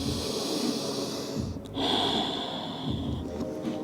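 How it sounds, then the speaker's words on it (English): A long, deep inhale is drawn in through the nose and followed by a steady rush of air, close and continuous during a yoga stretch on a mat, with a faint whistle over the breath. "One more deep breath all the way in."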